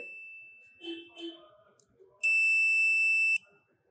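A multimeter on continuity test beeps while checking an ECM circuit board for shorts: one sharp, steady electronic tone lasting about a second, loud and clean, after some faint handling clicks and soft background noise.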